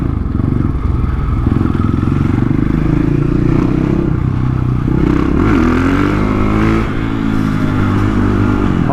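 A 450 supermoto conversion motorcycle rides and revs close up, its loud single-cylinder engine droning steadily and rising in pitch through gear changes, with no talking.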